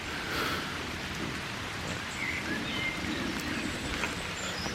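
Steady rain falls outside a car, a dense continuous patter with no talk.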